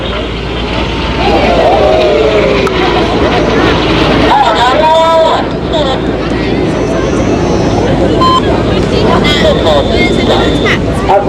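Red Arrows jets of the RAF Aerobatic Team performing a barrel roll at Blackpool Air Show, a loud continuous roar of jet engines with whooshing passes and shifting pitch, crowd babble and a commentator's voice underneath.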